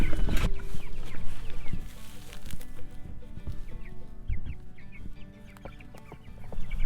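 Meat chickens cluck and cheep while being moved from the brooder into a chicken tractor, a busy overlapping flock chatter with scattered peeps and some thumps and wing flaps nearby.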